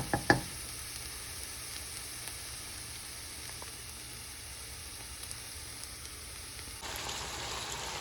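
Chickpeas, corn and carrots stir-frying together as a mixed vegetable filling seasoned with salt and black pepper, giving a steady low sizzle throughout after a couple of sharp utensil clatters at the start, with a slight rise near the end.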